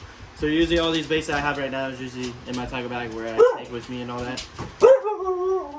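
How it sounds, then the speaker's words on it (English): A pet husky indoors yips, whines and gives short howling barks in a rising, talkative run while someone talks over it nearby. "And that's my dog, so don't worry about her."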